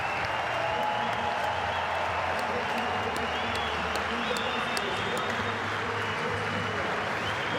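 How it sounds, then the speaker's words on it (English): A cricket crowd at the SCG applauds David Warner in his final Test innings, a broad, sustained wash of clapping from the stands with a commentator talking over it. "David Warner takes the warm applause from his home crowd at the SCG."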